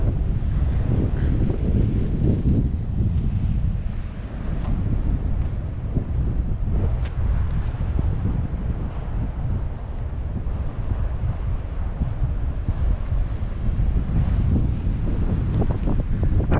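Ocean surf and strong wind on the Gran Canaria coast near the fishing village of Solanki, a steady roar of breaking waves with wind buffeting the microphone throughout, loud and continuous with no talking.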